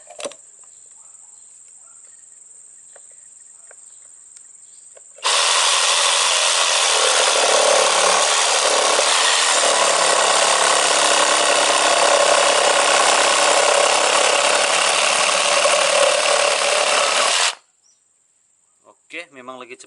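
A MACE Plus MT-RS21V/S 21V cordless reciprocating saw cuts through teak wood in one loud, steady run of about twelve seconds, its rapid buzzing stroke starting and stopping abruptly, with quiet motor whine before and after.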